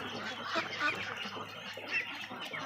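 Many laying ducks on a duck farm quack and honk in overlapping bursts, a busy flock nearby with calls rising and falling throughout.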